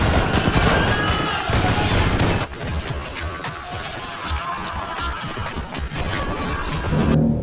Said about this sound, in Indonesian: baku tembak pun tak bisa dihindarkan